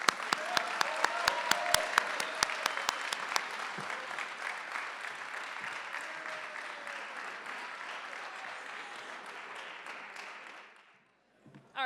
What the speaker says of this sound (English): so round of applause for Ms. Portal.